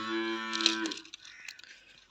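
An animal toy plays a recorded wild bull moo, a single loud, drawn-out low call lasting about a second and then trailing into quiet clicks and rustles.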